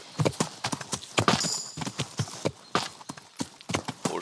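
A horse's hooves clip-clop on the ground in the medieval video game Kingdom Come, a close, rhythmic series of sharp, evenly paced hoofbeats repeating throughout the short stretch without talk.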